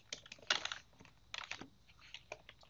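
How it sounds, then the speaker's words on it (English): A computer keyboard is tapped in short, quiet bursts of clicking keys, a few separate clusters of keystrokes with pauses between them, close and alone. "let's go ahead and comment out that code using Control KC on my keyboard"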